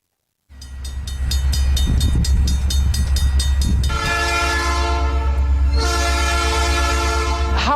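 A train rumbles loudly and steadily throughout as its horn blares in two long, sustained blasts, the first coming in shortly after the start and the second near the end; no speech.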